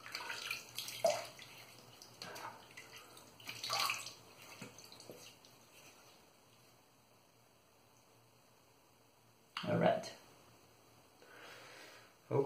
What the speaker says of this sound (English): let me just wet my face a bit